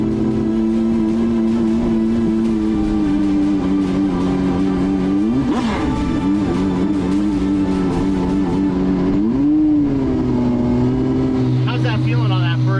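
A twin-turbo Ferrari V12 in a DDE build revs loud and close, its sustained tone rising and falling through several swells over more than ten seconds, with people talking over it.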